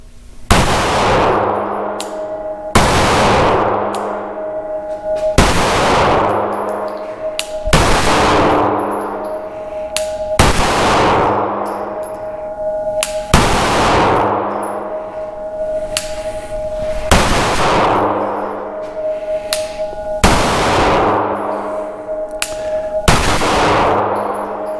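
A SIG P365 Fuse pistol fires at steel targets outdoors, sharp gunshots each followed by a ringing metallic clang, nine evenly spaced shots over about twenty-five seconds, loud and close with no talk.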